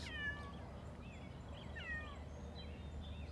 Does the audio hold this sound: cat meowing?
yes